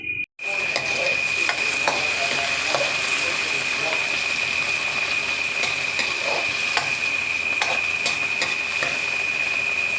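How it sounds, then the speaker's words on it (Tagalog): Tomatoes being sautéed and mashed in a pan before sardines go in, heard as a loud, continuous sizzle with repeated scraping stirs and metal ticks, close to the pan, under a steady high-pitched whine. "Tara guys, mag-isa-gisa na tayo."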